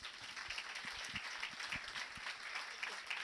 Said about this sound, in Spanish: a todos y a cada uno una profunda acción de gracia y un aplauso